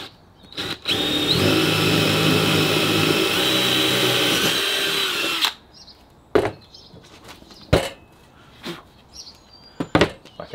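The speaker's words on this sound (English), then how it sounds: "Out with a jigsaw." A jigsaw cuts through wood for a roof fan opening in a VW Crafter camper conversion, buzzing loudly and steadily for about five seconds before stopping, followed by scattered knocks and clatter.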